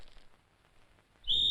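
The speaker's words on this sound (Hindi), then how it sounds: "मेरे बाप ने सीटी बजा दी है।" A whistle blows with a sudden sharp, shrill tone that cuts in at the very end after a near-silent stretch, loud and close.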